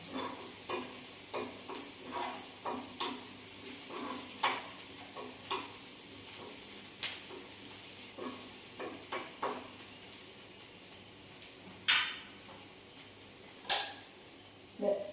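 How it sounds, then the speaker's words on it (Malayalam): Onions fry in a pan with a low continuous sizzle while a spoon stirs them in irregular scrapes and taps, a couple of sharper knocks near the end, close and fairly quiet with no speech. "ഉള്ളി മൂത്ത് വരുമ്പോൾ ഒന്നും കൂടി നന്നായിട്ട് ഇളക്കി കൊടുക്കാം."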